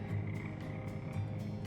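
Frogs croak in a video game called Teach a Man to Frog, giving a few low, throaty croaks over a steady background ambience, fairly faint with no talking.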